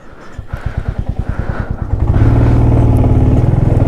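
A motorcycle engine idles with a loud, rapid putter, then revs up into a steady, louder drone, very close, at Chumathang hot spring in Ladakh.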